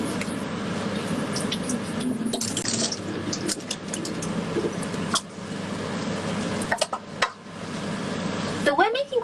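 Baby spinach leaves being rinsed in water, with a steady wash of running or splashing water throughout, a few brief clinks and sharper splashes near the end.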